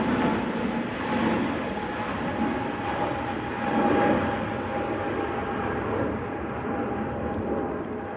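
Large heavy airliners, a Virgin and a Gulf Air jet, departing Manchester Airport on a gusty, windy day, give a steady, loud jet roar that swells slightly midway and holds for the whole stretch.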